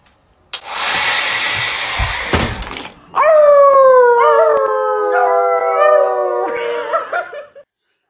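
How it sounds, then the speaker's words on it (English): A dog howls long and loud in rising and falling wails, close up, after a steady hair dryer roars for a few seconds and cuts off. "My dog will not let me blow dry my hair for the fucking life of me."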